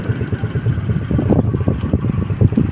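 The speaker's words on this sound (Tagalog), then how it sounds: "Taas ng hangin dito." Strong wind on Jariels Peak in Quezon buffets the microphone in rough, uneven gusts, with a low rumbling roar throughout.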